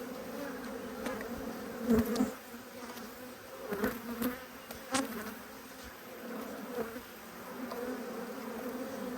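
Honey bees buzzing loudly at an apiary hive inspection, a continuous droning hum with individual bees swelling close past, no speech.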